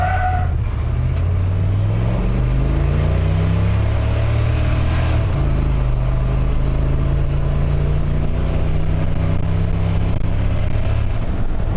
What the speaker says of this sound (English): So I'm gonna do a little bit of a burnout this time.